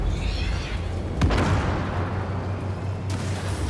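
A 152mm gun launcher on a tank fires in the video game Armored Warfare, giving a single heavy boom about midway that rolls into a sustained low rumble, with no talking.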